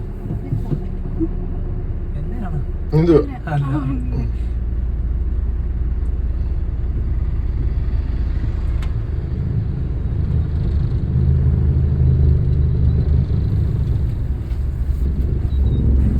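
A car in motion during a driving lesson, its steady low engine and road rumble filling the cabin from start to finish, with a short burst of a voice early on.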